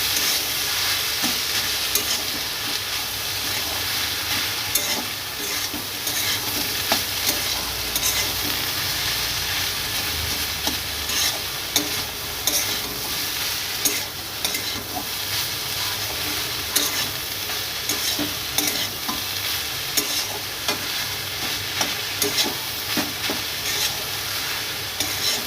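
Ginger and cumin paste fries in a pan for a Bengali lunch dish while being stirred, a constant loud sizzle with repeated scraping strokes of a utensil throughout.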